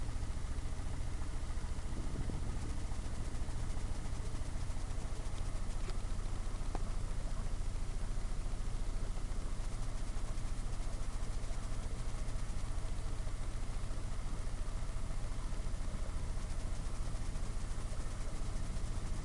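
An Atomic 4 inboard gasoline engine on a sailboat idles while motoring slowly along the Intracoastal Waterway in Florida, a steady low continuous drone with no breaks, heard alone.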